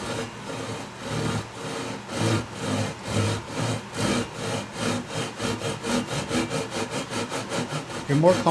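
A hand saw cutting through a wooden board in steady back-and-forth strokes, close and fairly loud, the rhythm speeding up toward the end.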